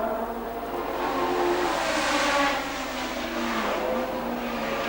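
1970 British Grand Prix Formula One cars roaring along the straight, a loud sustained engine howl that swells and shifts pitch as the cars pass, with no commentary heard.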